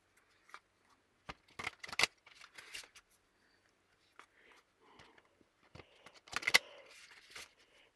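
Tarot cards being riffle shuffled close up, with scattered quick ruffling bursts and soft taps separated by quiet gaps, faint overall.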